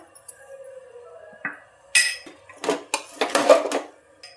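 Pav bhaji masala is stir-fried in a pan, and a spatula clanks and scrapes against the metal in quick, irregular knocks. Near the end the knocks come in a denser run, with quiet gaps between the first few.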